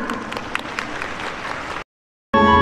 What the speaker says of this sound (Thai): ขอเสียงปรบมือให้ท่านอีกครั้งนะคะ